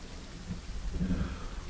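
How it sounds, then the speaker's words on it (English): Thunderstorm at sea in the ship simulation game Ships at Sea: a constant wash of rain carries a low rumble of thunder swelling briefly midway, with no talking. "I haven't seen a thunderstorm yet."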